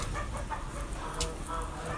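Chickens and a rooster cluck and murmur in a winter coop, with soft overlapping bird calls at close range amid a low, steady background.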